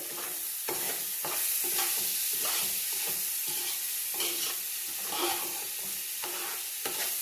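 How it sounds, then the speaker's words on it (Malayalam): Ingredients for beef biryani stir and fry in a hot pan with rock salt, a continuous crackling sizzle broken by repeated scraping strokes of the spoon, close and fairly quiet. "ഇളക്കിയിട്ട് വറുത്തിട്ട് എടുക്കട്ടെ"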